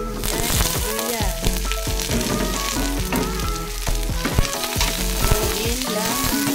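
Onions and ginger sizzle loudly in a pan for chicken tinola, a dense continuous frying crackle with frequent clinks and scrapes of stirring, close and steady throughout.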